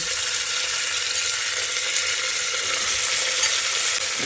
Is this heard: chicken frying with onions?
yes